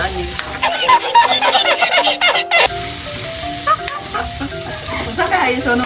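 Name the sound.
hotdog added and stirred, sizzling in pan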